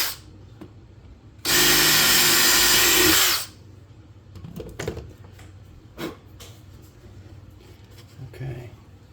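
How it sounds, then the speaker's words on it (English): A power screw gun whirs loudly for about two seconds, then stops; afterward come faint knocks and handling sounds with scattered quiet clicks. "Screw gun,"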